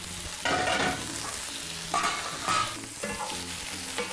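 Cauliflower and carrot fry in an oil-slicked pan, sending up a close, continuous sizzle that swells in a few louder bursts as the vegetables are stirred and tossed, with no speech.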